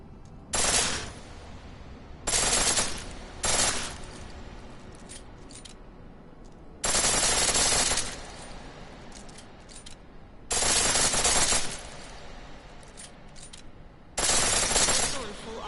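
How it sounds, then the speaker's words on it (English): Full-auto pistol fire in Deus Ex: Mankind Divided, loud sharp bursts in six separate volleys, each a rapid string of shots lasting about a second, with quieter gaps between them. "Pistol in full auto will take down targets fast, but it'll burn through your ammo."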